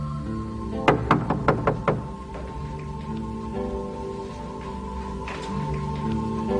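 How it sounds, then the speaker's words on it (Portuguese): In an audio drama, a rapid series of about five sharp knocks on a door sounds close up, followed by a soft steady rain-like background and faint tones. "Mas Pedro continuou batendo."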